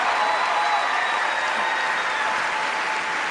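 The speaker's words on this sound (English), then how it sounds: "So I, along with the audience, applaud you for that." Audience applause at a televised talent-show audition for comedians, steady and sustained throughout, dense and fairly loud with a broad crowd texture and faint tonal hum beneath.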